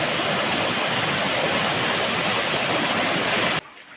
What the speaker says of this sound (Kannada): ಫಾಲ್ಸ್ ಇಂದ ಹರಿದು ಬರುವಾಗ ಕಾಣ್ತದೆ ನೀರು